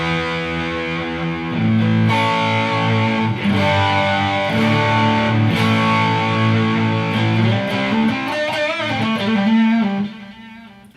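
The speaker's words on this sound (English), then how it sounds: "where I had a little bit of reverb and a little tiny tape echo delay, and just hit my overdrive pedal." Electric guitar played through an overdrive pedal with a little reverb and tape echo delay, sustained distorted chords ringing loud and alone with echoing repeats trailing off at the end.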